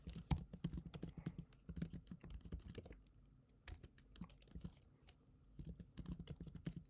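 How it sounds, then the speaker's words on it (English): Password typed on a computer keyboard, with rapid close key clicks in bursts, a short pause midway, then more quick tapping, fairly quiet and with no talk. "type in our password."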